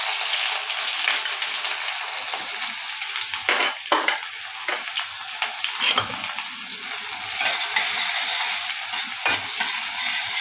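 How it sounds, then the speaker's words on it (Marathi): Onions frying in hot oil with mustard seeds and cumin, a loud, steady close-up sizzle with crackling spatters and occasional stirring scrapes. "कांदा चांगला परतून घ्यायचा आहे"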